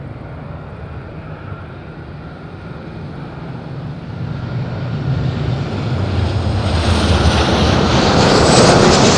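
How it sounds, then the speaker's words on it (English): An airliner touching down at Madeira Island Airport, its engine roar swelling from a distant rumble into a loud, close rush with wind buffeting the microphone. "Nicely on the ground, great landing."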